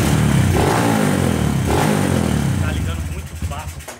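An old Honda Today motorcycle's engine fires and runs steadily: a loud, close, throbbing idle with a mechanical rattle that softens slightly toward the end.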